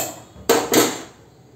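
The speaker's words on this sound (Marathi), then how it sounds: "आता मी कुकर बंद करते" A pressure cooker lid gets shut on a kitchen stove while cooking chole, making two quick, close metallic clanks about a quarter second apart. Each is sharp and bright, and both fade fast into quiet.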